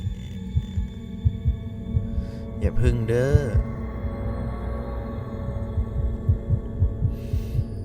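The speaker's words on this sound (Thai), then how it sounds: "ทำไมหัวใจเต้นรัว" A fast, thumping heartbeat from the horror video game Evil Inside, pulsing steadily in the foreground, with a player briefly speaking over it midway.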